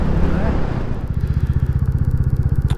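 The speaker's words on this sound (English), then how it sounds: "I do like the sound of that engine as it's reverbing coming off that wall on the hillside." Royal Enfield Classic 350 single-cylinder motorcycle idling with a steady, rapid thumping beat that echoes off a stone wall on a hillside, loud and close, with no talk over it.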